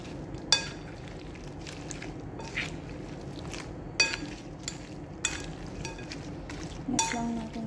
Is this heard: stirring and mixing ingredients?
yes